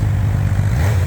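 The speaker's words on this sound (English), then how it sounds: "So let's hear this bike's exhaust." A Honda CB1000R motorcycle's factory exhaust idles loud and close at a Sunday car meet, a steady low throbbing rumble holding without a clear rev.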